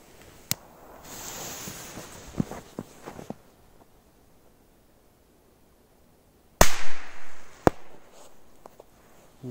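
Golden Dragon 'Tropik' firecrackers bang sharply in an outdoor test: an early crack and a few small pops, then a loud close blast followed by another sharp report and fading debris.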